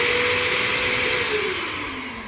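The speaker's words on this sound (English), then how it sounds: "The dust evacuation system is incredibly loud." Dust evacuation system on a VEVOR 90 gallon sandblasting cabinet roaring loudly with a steady whining drone, its pitch dropping and the noise easing slightly toward the end, with no talking.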